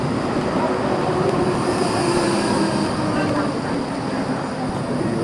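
Passenger train riding through downtown Basel, a steady loud rumble of wheels on rails with a faint metallic squeal, heard from inside the carriage without interruption.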